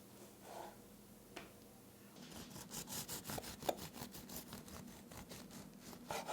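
A knife saws through a hot, square einkorn keto bread loaf in quick repeated strokes, giving a close, rhythmic rasping crunch that starts after about two seconds of quiet, with no talking.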